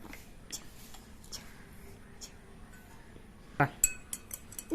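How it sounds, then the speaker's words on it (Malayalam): Spoon tapping and clinking against a glass while sugar goes in for homemade lime juice, a few light metallic chinks near the end, close and faint, with quiet speech alongside. "സ്പൂണ് ക്ലാസ്സിൽ പഞ്ചസാര ഇടും"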